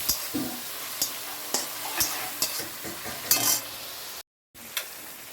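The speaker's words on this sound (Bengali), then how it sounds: "চিংড়িটা দিয়ে দিচ্ছি এখানে ভাজা হচ্ছে দেখো" Steady sizzling of prawns frying in a pan, with regular scraping and stirring strokes, close up and fairly quiet.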